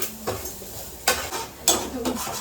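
A block of Maggi noodles is snapped into four pieces and dropped into a pan, giving three separate sharp crackling clatters close by against a quiet kitchen background, with no talking.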